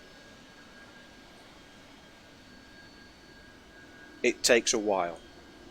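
Heavily laden Harrier jump jet taking off in a flight game, a steady broadband engine roar held at one level throughout, with someone talking briefly near the end.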